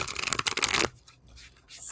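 A quick riffle of tarot cards being shuffled, crisp and close for under a second, then quiet handling noises.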